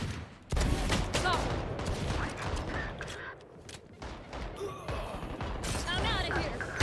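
Gunfire in Valorant, a first-person shooter: several sharp bursts and single shots crack through a tense round, mixed with game effects and a player talking over the action.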